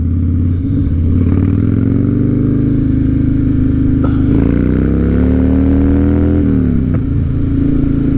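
A Harley-Davidson Night Train motorcycle with freshly replaced spark plugs rumbles loudly up close, its V-twin engine climbing in pitch through sustained revs, dipping briefly, then rising again with no talk over it.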